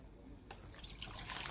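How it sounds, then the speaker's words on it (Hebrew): Tap water pours into a kitchen bowl, starting as a faint hiss and building to a steady, brighter splashing rush, with no talking. "מי ברז"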